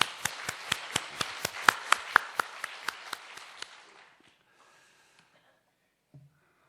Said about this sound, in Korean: 이분들을 격려하는 박수 한번 보내겠습니다